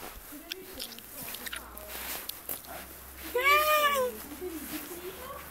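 Cats in heat yowl in a single drawn-out wavering meow near the middle, close and fairly loud, among background chatter and Italian speech.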